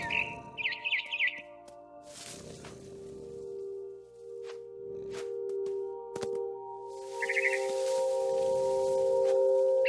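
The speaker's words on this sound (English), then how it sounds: "Then I heard chirping outside my window. It was a barn swallow going back to her nest." A barn swallow in the video game What Remains of Edith Finch chirps in short bursts of high twittering, separated by soft rustles and a steady low hum in the background.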